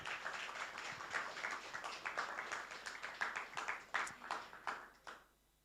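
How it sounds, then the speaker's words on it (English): Audience at a youth hackathon applauding, a dense round of clapping that builds with sharper individual claps near the end before fading out. "make a huge round of applause for all of you for being here"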